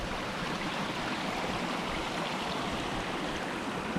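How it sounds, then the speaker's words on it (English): A small creek runs downhill near a remote Scottish loch, its steady, even babble and rush of water filling the scene without pause. "it's kind of like a bit of a creek going down"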